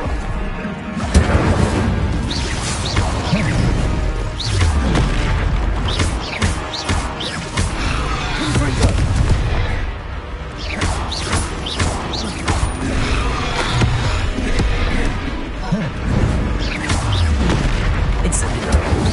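Explosive fire and blast spells (Incendio, Confringo, Depulso) cast in Hogwarts Legacy on PS5: repeated loud booms, crashes and thuds with creaking mechanical clatter in a dense, continuous barrage, and a voice speaking over it.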